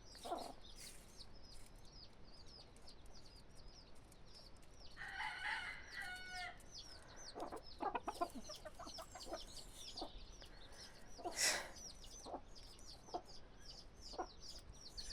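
Hens, roosters and chicks in a farmyard with ducks, clucking and crowing in a steady layered chorus, with a few louder calls rising out of the flock and no talking.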